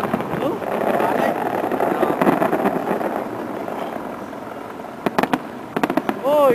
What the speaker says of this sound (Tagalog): ito yung pinaka-the-best na fireworks